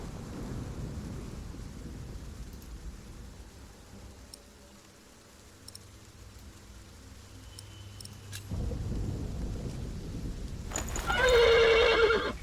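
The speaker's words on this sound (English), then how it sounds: "The horse nearly woke the guard." A horse whinnies loudly and close by near the end, after a stretch of low rumbling ambience with faint hoof clops and thunder-like noise beneath.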